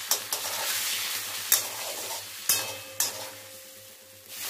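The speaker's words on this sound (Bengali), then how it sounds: "এবার ভালো করে এটাকে কষে নেব।" Tomato, onion and potato fry with spices in a hot pan for an omelette curry, a continuous bright sizzle broken by several sharp spoon knocks and scrapes against the pan, with no talking.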